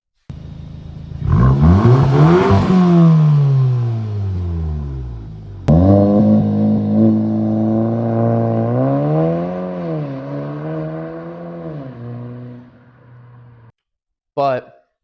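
An Audi A3 engine revs hard and close, its modified exhaust roaring up and down in pitch across several pulls, ending with a short sharp pop.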